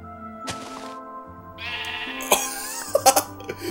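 A sheep in the video game Minecraft gives several short bleats in quick succession, with game sounds in the background and no one talking.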